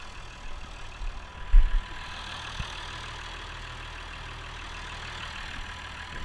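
A tractor engine idles steadily and low, with a couple of brief knocks or thumps early on and no voices.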